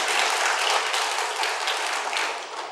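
A church congregation at a Wednesday evening service claps together in a dense, sustained round of applause that fades slightly toward the end.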